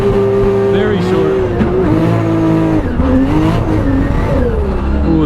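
Drift car sliding around a track at high speed, engine revving hard and steady with tires squealing through the slide, loud and continuous throughout, with a driver's voice faintly under the noise.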